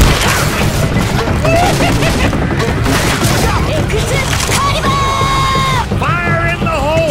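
Grenade explosions in the zombie shooter Left 4 Dead 2, heard as heavy booms and crashing blasts inside a dense, loud game mix, with voices shouting and talking throughout.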